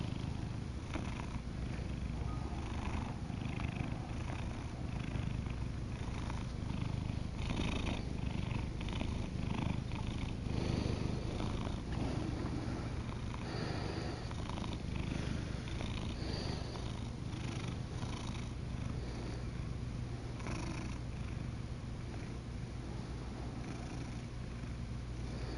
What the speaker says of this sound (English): Simba the kitty's comfortable.